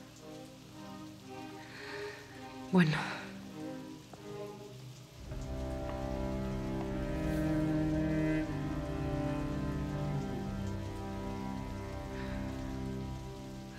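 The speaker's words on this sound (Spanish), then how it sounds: "Está lloviendo mucho." Heavy rain falls steadily on surfaces nearby, growing into a dense, constant patter; a brief word is spoken early on.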